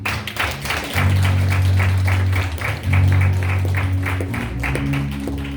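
A church congregation at a Sunday service of the Philadelphia Church of the Nazarene applauding, with steady rhythmic clapping that keeps going for several seconds over a low musical backdrop.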